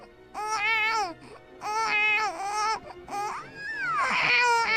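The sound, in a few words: singer imitating a newborn baby crying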